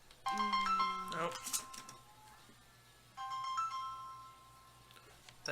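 A mobile phone ringtone plays a bright, chiming melodic pattern in two bursts separated by a brief lull, fairly clear over a low steady background hum.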